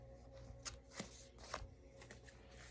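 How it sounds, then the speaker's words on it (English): A tarot card deck is shuffled quietly by hand, with several soft papery slaps and riffles spaced about half a second apart, close and low in level. "I wanna shuffle this deck again"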